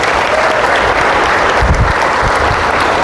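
A congregation at a church anniversary service in Cupang, Muntinlupa, breaking into sustained clapping, a thick wash of many hands applauding loudly and evenly from start to finish.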